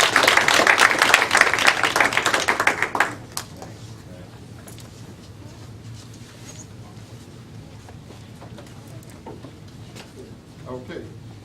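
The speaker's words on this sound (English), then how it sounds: "Let's give her a round of applause." Applause from a school board meeting audience honoring a student, a dense burst of clapping for about three seconds that stops abruptly and gives way to a quiet room.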